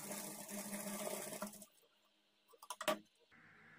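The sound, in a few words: sewing machine stitching blouse fabric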